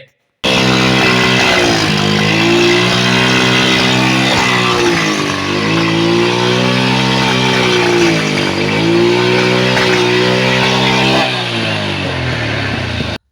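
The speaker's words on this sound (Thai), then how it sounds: "นั่นคือเสียงของรถที่มาร์กไม่ตรงนะครับ" A motorcycle engine with misaligned timing marks idles and revs continuously and loudly, its uneven, lumpy tone rising and falling in several surges before settling back down.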